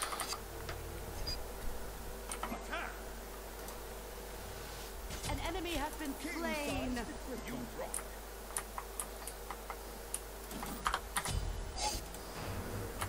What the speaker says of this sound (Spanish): escuché como tu teclado